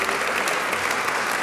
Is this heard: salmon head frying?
no